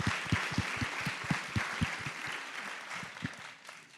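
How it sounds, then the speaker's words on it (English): An audience at a presidential center talk on desegregation applauds steadily, a broad wash of clapping with some sharper nearby claps and low thumps, fading slightly toward the end, no voices. "give a round of applause to Deidre Meredith"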